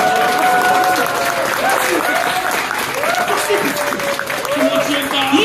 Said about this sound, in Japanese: 皆さんも拍手こっちにするのやめてもらっていいですか。